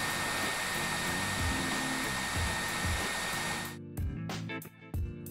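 A hot-air blower heating a vinyl skin on a Samsung Galaxy A50/A30 phone roars steadily at close range, then cuts out and sputters in brief bursts near the end.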